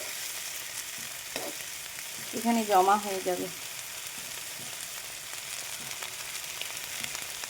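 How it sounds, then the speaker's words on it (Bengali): Okra and potato frying in oil sizzle steadily and softly throughout, while a person speaks briefly near the middle. "এই হচ্ছে ভেন্ডি আলু ভাজা"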